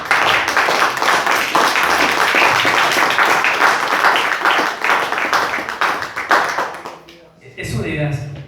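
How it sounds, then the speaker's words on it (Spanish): A church congregation applauds for Christ during a sermon by a pastor: loud, rhythmic clapping from many hands that fades and gives way to the pastor's voice at the end. "Yo pensé que eso iba a sacar un aplauso por Cristo"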